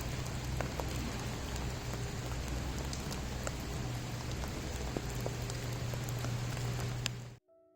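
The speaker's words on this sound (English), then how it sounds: "it is the sort of rain that I do love the sound of." Steady rain falls outside in England, a dense, even patter with occasional louder drops, continuing unbroken until it cuts off abruptly just before the end.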